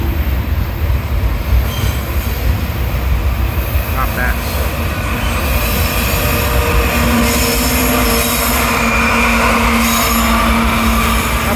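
A southbound CSX mixed manifest freight train with two mid-train DPU helper locomotives rolls past on track two. It makes a loud, steady rumble of wheels and cars throughout, with a drawn-out wheel squeal in the later half and a brief voice.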